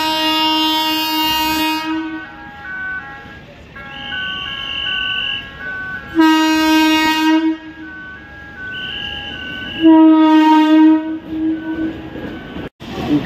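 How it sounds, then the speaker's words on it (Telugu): A train rolls along a railway line beside track replacement and underpass work in Anantapur, with loud sustained horn tones sounding in three bursts over a steady rumble of passing cars. "ట్రైన్ వస్తూ ఉంది."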